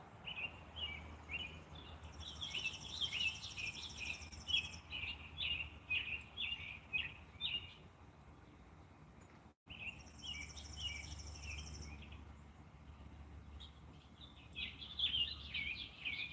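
Backyard birds chirping in repeated bursts of high, quick calls, faint and somewhat distant, over a buzzing insect drone and a low hum.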